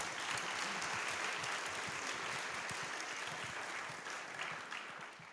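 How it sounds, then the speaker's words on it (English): An audience at a school board meeting gives a round of applause, a dense, even roar of many hands clapping at once that holds steady and then starts to fade in the last second. "Let's give Mr. Wiley a round of applause."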